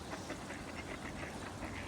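Ducks at a duck park where mandarin ducks are fed, with mergansers nearby, quacking in a steady, busy chorus that runs for about two seconds against a continuous outdoor wash.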